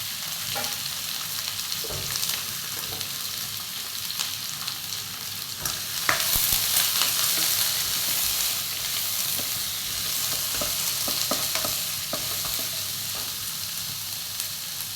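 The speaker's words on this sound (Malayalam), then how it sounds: "ഇനി ഇതിലോട്ട് അരിഞ്ഞ് വെച്ച സവാള ഇട്ട് കൊടുക്കാം" Chopped onions fry loudly in a pan for egg roast, a dense, continuous sizzle with repeated stirring scrapes and clicks throughout, no voices.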